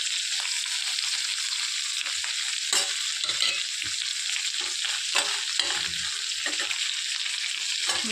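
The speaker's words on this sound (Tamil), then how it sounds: "கொஞ்சம் கல் உப்பு போட்டு வதக்கிக்கலாம்." Vegetables and rock salt sizzle steadily in a hot pan for a Tamil-style kuzhambu, with occasional scraping stirs breaking through the constant frying hiss.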